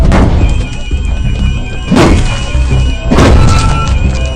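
An ATM machine being smashed in a movie scene, heard as three heavy crashing impacts spaced about a second apart over a loud, dense rumbling background.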